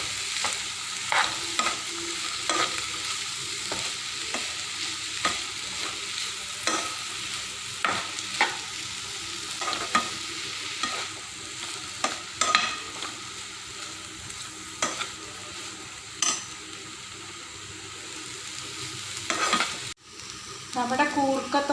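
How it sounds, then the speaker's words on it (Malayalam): Koorka stir-fry with crushed green chilli and coconut is stirred in a hot pan, a steady sizzle punctuated by regular scraping strokes of the spoon every second or so, close and without talk. "ഇതിൻ്റെ ഒപ്പം തന്നെ പച്ചമുളകും തേങ്ങയും കൂടി ചതച്ചിട്ട് വെച്ചത് ഇതിലേക്ക് ഇടും. എന്നിട്ട് നല്ലപോലെ ഒന്ന് ഇളക്കാം."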